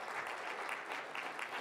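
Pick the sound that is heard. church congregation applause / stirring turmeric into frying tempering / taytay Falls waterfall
church congregation applause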